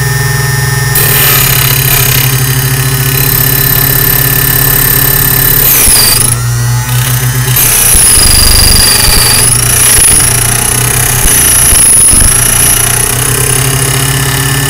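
A restored key cutting machine slowly cuts a copy of a key, giving a loud, continuous motorized grinding whine with a steady hum underneath. The whine dips and shifts in pitch midway as the cut progresses.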